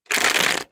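A short, brisk riffle of tarot cards being shuffled, a single quick burst of papery flutter lasting under a second.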